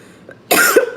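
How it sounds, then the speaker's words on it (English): A single sharp cough bursts out close and loud in a room filled with burning palo santo smoke, preceded by a faint throat sound. "I'm coughing already."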